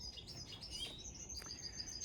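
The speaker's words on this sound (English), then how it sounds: "You like the birds?" Small birds chirp outdoors in a quiet setting, several high bright calls and trills overlapping at moderate distance over a soft background hush, with no talking.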